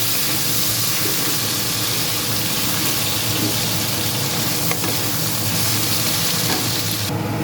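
Potatoes fry in a pan with a steady, loud, broadband sizzle that holds without pause, and no one speaks over it.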